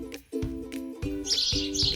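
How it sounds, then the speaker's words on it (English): A small brown sparrow chirps in a quick series of bright, high tweets, fairly close and clear with no voices. "This tiny bird is a sparrow."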